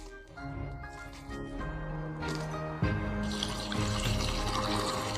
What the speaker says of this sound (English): Soak these peppers in cold water for 10 minutes.